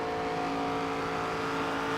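Steady droning stock car engine in the NASCAR 25 racing game, a continuous whirring hum at constant pitch with no talk over it.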